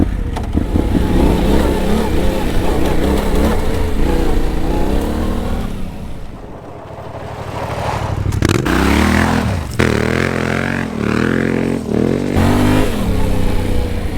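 A Yamaha Tenere 700 adventure motorcycle, about 450 pounds, rides off-road with a loud continuous engine drone, dipping and then revving back up through rising gear pulls, heard close from the rider's position with wind noise.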